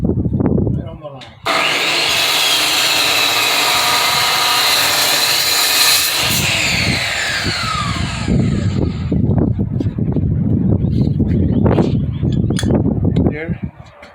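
A power saw whines as it cuts through wood along a marked line for a work table. The blade's shrill, sustained roar runs for several seconds, loud and close, then spins down amid shop noise while a person talks.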